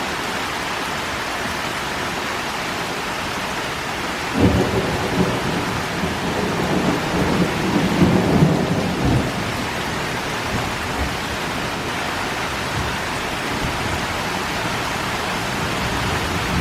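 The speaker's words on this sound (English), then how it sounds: "Big thunder probably gonna come." A heavy thunderstorm, with rain pouring down steadily and hard enough to flood. A deep rumble of thunder swells in the middle and then fades back into the constant rain.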